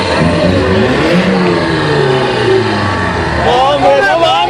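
A Pontiac Firebird revs its engine at a Maryland car meet, a loud rising and falling engine roar close by, while excited people shout over it.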